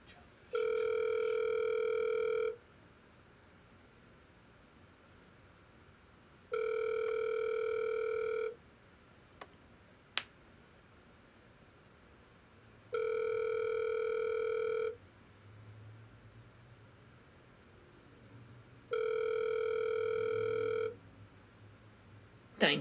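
Telephone ringback tone on a dialed call, four evenly spaced long rings separated by pauses of quiet line hiss, with a faint voice murmuring low in the background near the end.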